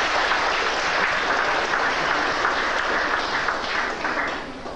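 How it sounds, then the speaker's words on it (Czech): A hall audience at a 1997 dance-class evening gives big applause for a musician, a steady dense wash of clapping that holds evenly throughout with no voices on top. "to bych chtěl velký potlesk."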